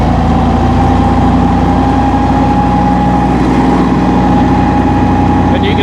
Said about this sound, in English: turn up the throttle, we got it up there about 1500. Slide this forward. And your mower's going.